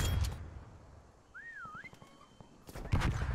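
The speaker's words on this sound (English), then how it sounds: "Forgot about the whistles though." In the Prop Hunt video game, a prop player's whistle taunt rises and falls in one clear warbling phrase, sounding moderately loud amid soft game ambience and sporadic thumps.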